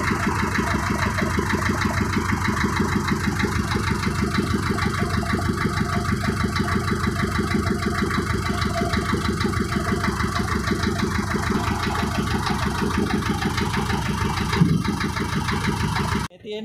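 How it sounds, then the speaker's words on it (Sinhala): A small two-piston engine on a prawn-trawling boat runs steadily close by, with an even rhythmic chugging throughout before it cuts off at the very end. "පිස්ටන් දෙකේ පොඩි එන්ජිමක් තියෙන්නේ"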